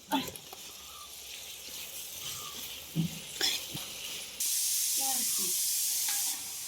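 Onions and curry leaves sizzle in hot oil, a steady frying hiss with occasional louder spurts and stirring scrapes, rising to a broad, loud sizzle near the end.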